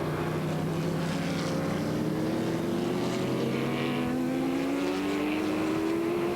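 Race cars at the 1997 Daytona 24 Hours, including a Lister, roar continuously with engine tones rising in pitch as they pass, a dense, steady mechanical drone throughout.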